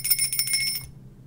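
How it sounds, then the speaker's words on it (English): A bell rings in a rapid, bright trill of repeated strikes close by, then stops abruptly and leaves quiet background. "Don't ring the bell."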